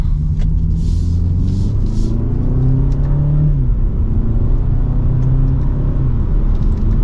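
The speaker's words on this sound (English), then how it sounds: "we're gonna pop it back into sport mode because we'll do another acceleration from second gear" A 2023 BMW 228i Gran Coupe M Sport accelerates hard from second gear in sport mode, its engine droning loudly and steadily from inside the cabin. The pitch climbs and drops back at smooth gear shifts.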